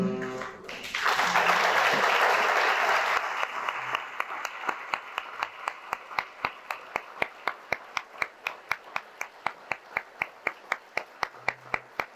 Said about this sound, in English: I would like this room to applaud them for what they did